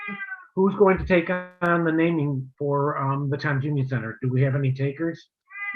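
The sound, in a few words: cat meowing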